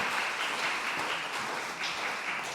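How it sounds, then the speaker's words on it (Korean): A church congregation applauds during a Sunday evening worship service, a steady wash of many hands clapping together that stays even and sustained throughout, heard from a moderate distance. "우리 영광 박수 올립니다"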